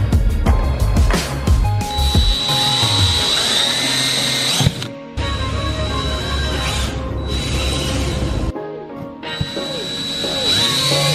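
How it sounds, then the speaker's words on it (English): A power drill bores pilot holes for mounting a carbon fiber wing on a Mitsubishi Evo X, whining loudly in long sustained bursts broken by short pauses around the five- and nine-second marks. "the holes we just drilled are just the pilot holes"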